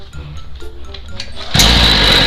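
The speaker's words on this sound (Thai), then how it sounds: "เดี๋ยวเรามาลองสตาร์ทดูว่ามันจะติดหรือเปล่าเนี่ย เปิดสวิตช์ น้ำมันลง ลอง สตาร์ดูทุกคน" A homemade go-kart's small engine is cranked: quiet fiddling and soft clicks come first, then the motor catches with a sudden, loud, high-pitched buzzing rattle that runs steadily to the end.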